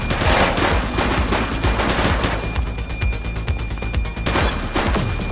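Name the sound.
gunfire in the video game The Precinct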